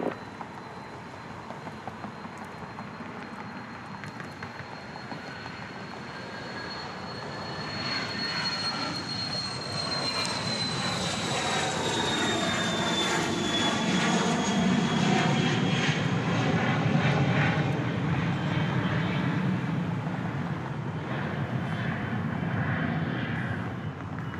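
A jet airplane at Dallas Love Field runway at night roars close by, its engine whine sliding down in pitch as the roar swells louder and holds steady.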